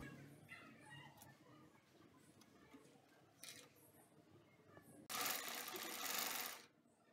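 A sewing machine stitches the shoulder seam of a baby top in a single brief, loud, buzzing run near the end, preceded by quiet fabric handling and small clicks.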